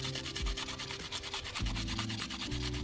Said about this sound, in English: And I'm using a wet sanding method.